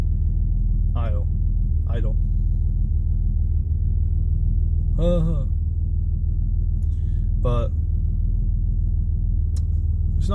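A 30th anniversary 5-speed Chevrolet Camaro engine idles with a steady low rumble throughout, close and constant, while someone talks in short bursts over it.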